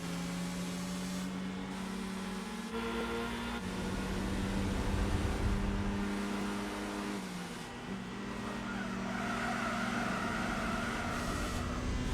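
A racing car in Gran Turismo 4 charges into the first corner at high speed and slides into oversteer, its engine a steady, loud, sustained tone that bends and shifts in pitch through the turn.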